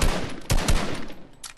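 Rapid bursts of gunfire in Fortnite, aimed at shooting down a player's built stairs, several sharp close shots clustered in quick succession within a second and a half.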